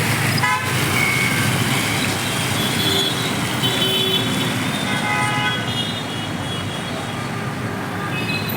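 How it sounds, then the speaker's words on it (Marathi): Vehicles pass along a busy village road, with repeated horn toots sounding over continuous rumbling traffic noise, fairly loud and close. "गाडी येणार आहे"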